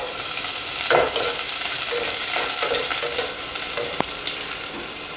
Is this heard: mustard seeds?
yes